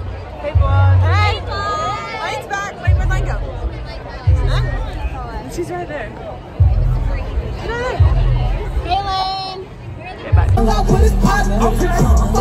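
A festival crowd at Music Midtown fills the air with dense babble and chatter, while nearby voices talk over it and deep bass thumps pulse at intervals.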